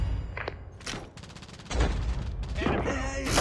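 Rapid automatic gunfire from a deployed sentry gun in a military shooter game, loud bursts with booming impacts amid the noisy chaos of battle, continuing through the clip.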